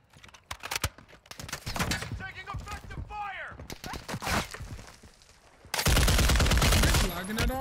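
Gunfire in a multiplayer shooter video game: bursts of rapid shots and single cracks scattered across the clip, some close and loud, with game sound effects and a louder final stretch of firing.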